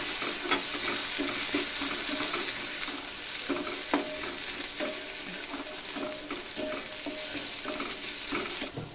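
Peanuts and boiled potatoes are stirred in a sizzling pan for a sabudana dish: a constant, close frying hiss with regular scraping and clinking from the spoon throughout, and no voices.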